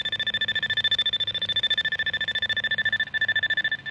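A radio picks up the tracking signal from a buried irrigation wire as a rapid, steady pulsing tone, loud and close, with a brief dip near the end.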